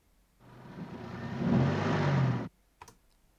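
An engine sound effect, processed with overdrive and kept close to the original engine's tone, builds into a gritty, roaring rumble for about two seconds and then cuts off sharply, followed by a faint click.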